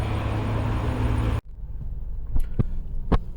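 A 2023 Cadillac Escalade ESV Sport pulls away from a dealership, a broad engine and road rumble up close that cuts off suddenly, leaving a quiet cabin hum with a few sharp clicks and taps.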